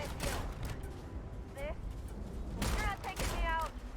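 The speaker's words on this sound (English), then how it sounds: "he just shot the little animal" Bursts of gunfire ring out in the video game Starfield, a few sharp volleys of shots spaced through the moment, heard over background game sound alongside a talking voice.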